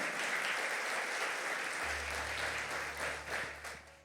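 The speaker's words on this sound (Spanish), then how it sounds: "Dele un aplauso al Señor." A church congregation applauds during a Spanish-language sermon, a dense, steady wash of clapping heard from a slight distance, with a low hum entering partway through and the applause easing near the end.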